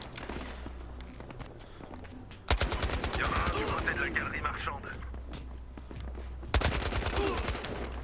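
Two rapid bursts of UMP 45 submachine gun fire in a Battlefield Hardline multiplayer match, each a fast string of sharp shots amid game ambience and footsteps, with a player speaking over it.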